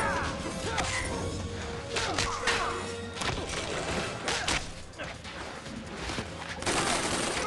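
Deathstroke fires his guns in the fighting game Injustice: Gods Among Us, with rapid bursts of gunfire mixed with heavy smashing and thudding impacts over a busy, loud game soundtrack.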